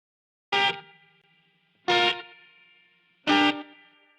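Clean electric guitar with subtle EQ and delay from a cover: three separate strummed chords, evenly spaced about a second and a half apart, each ringing out with a soft echoing tail, with nothing else playing.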